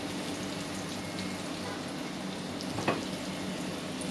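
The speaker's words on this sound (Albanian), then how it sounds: "Tiganin e parë kam skuqur, do skuqim dhe tiganin e dytë." Chicken and potato meatballs fry in a pan with a steady, even sizzle and crackle throughout, close and moderately loud, broken by one brief clink near the end.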